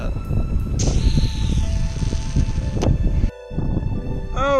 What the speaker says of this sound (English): Oh goodness, the wind is blowing.